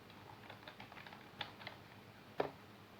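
A computer keyboard is typed on in a quiet room while entering a city name: a run of light, irregular key clicks at close range, ending with one sharper, louder tap.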